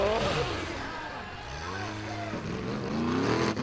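An Icelandic Formula OffRoad car climbs a steep slope at full throttle, its engine revving hard with rising and falling pitch. The roar is close and loud, with a voice briefly audible.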